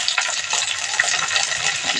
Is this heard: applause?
no